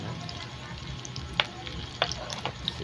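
Hotdogs frying in a pan at breakfast, with a constant close sizzle and a few sharp spits and pops scattered through it.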